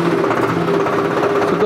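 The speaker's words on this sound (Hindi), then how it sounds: "सो चलिए दोस्तों इस ट्रैक्टर को अब हम चालू करते हैं" A Swaraj tractor engine runs at a steady, loud idle with an even low droning hum and a rough mechanical rattle, holding constant throughout.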